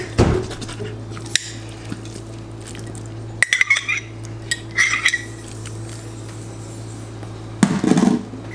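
Canned apple pie filling spooned into a baking dish for apple crisp: a few soft metallic spoon clinks and scrapes against the dish, with scattered taps and a final cluster of clatter near the end, over a steady low kitchen hum.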